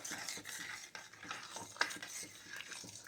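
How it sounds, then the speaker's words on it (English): Gingerbread cookies being stirred into a German sauerbraten sauce, a steady scraping and clinking of a spoon against the pot with a soft sizzle, one sharper clink partway through, no voices. "Stir it in real good."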